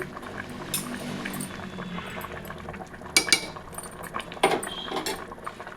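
Fish curry gravy with water added simmers in a pot, a steady low bubbling broken by a few sharp clinks and knocks of utensils against the vessel, with no talking.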